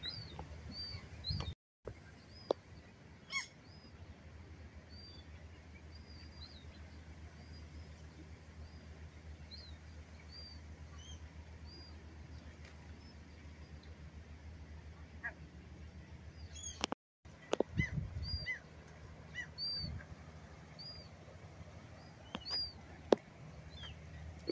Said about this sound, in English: So beautiful mom and baby bird.